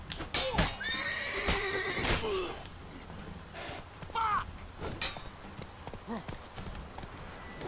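A horse in the video game The Witcher 3 whinnies several times amid clip-clopping hooves and sharp combat clashes, all layered over a busy game soundscape.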